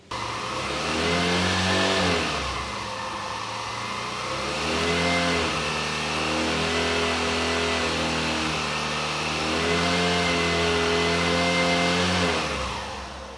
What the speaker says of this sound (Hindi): अभी मैं इंजन को स्टार्ट करके सेम उतने ही आर पर लेकर के जाता हूँ